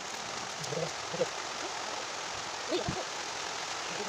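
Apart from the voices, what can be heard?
rain falling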